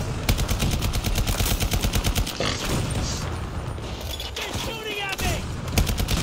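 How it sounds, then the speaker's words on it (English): Rapid automatic gunfire in the video game Battlefield 2042, dense bursts rattling close and loud, broken by a few heavier booms and mechanical clatter, with a voice talking over it. "They're shooting at me."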